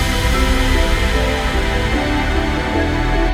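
A dense future bass drop pounds with every layer at once: heavy low bass, thick stacked synth chords and crashes, loud and unbroken throughout with no voices.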